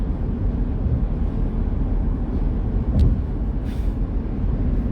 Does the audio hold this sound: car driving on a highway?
yes